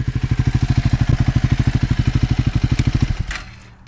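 A Triumph Scrambler 400 X motorcycle idling through its stock exhaust, a loud, even, rapid thumping pulse close by that runs steadily for about three seconds, then cuts off and fades away.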